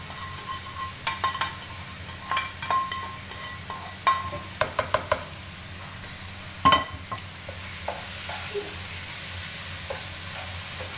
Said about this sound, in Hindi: अब हम इसी अंडे को इसमें मिक्स करेंगे।